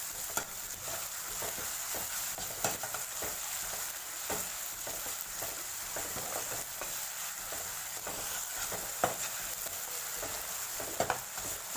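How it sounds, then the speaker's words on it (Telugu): Ginger paste frying in a pan, a continuous fairly quiet sizzle with occasional soft stirring clicks, no voices. "మనం మిక్స్ చేసుకున్న అల్లం పేస్టు వేసేసి బాగా ఫ్రై చేసుకోవాలి."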